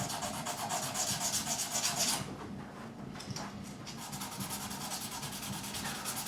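Guitar frets on a PRS Mark Holcomb Signature SE are polished with abrasive paper, giving steady back-and-forth rubbing strokes, close and fairly quiet, with a brief pause near the middle.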